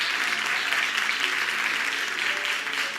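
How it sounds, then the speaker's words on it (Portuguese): A church congregation applauds in a steady, dense wash of clapping that holds for several seconds, loud and close with no break. "Vamos aplaudir esses homens aqui."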